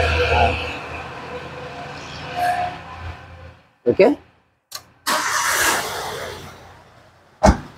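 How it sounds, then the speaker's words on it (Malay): A car engine is cranked and fires up in a workshop during electrical troubleshooting, with a short loud starter burst, a pause, then the engine catching and running close by, with someone speaking briefly over it. "kereta kita on dulu. Saya start dulu."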